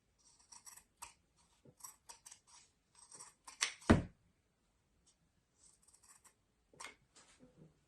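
Scissors trimming the sewn seam of a fabric face mask, a series of short, close snips and crisp cuts spaced irregularly, with one louder rustle of the fabric in the middle and no talking.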